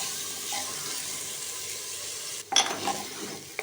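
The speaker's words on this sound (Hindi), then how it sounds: "दालें डाल के तो बस हम इसको चंद सेकंड के लिए मसाले के साथ अच्छी तरह से भूनेंगे।" Lentils being fried briefly with spices in a pan sizzle in a steady hiss, with a sharper burst of stirring and sputtering near the end.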